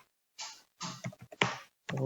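A computer keyboard types a terminal install command, a short run of several clicky keystrokes in quick, uneven bursts, close and distinct.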